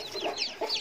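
Naked neck chicken giving a couple of quick, soft clucks close by, with no other sound.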